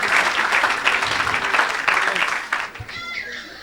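A church congregation applauds and cheers in bursts of clapping mixed with loud voices, the acclamation fading near the end as a shout rises over it.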